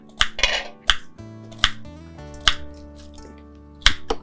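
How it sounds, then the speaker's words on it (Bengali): A metal kadai set down on a kitchen stove, several sharp clinks and clanks of metal against metal, close and fairly quiet, with low steady tones between the knocks. "কড়াই বসিয়ে দে?"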